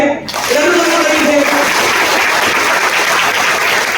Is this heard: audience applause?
yes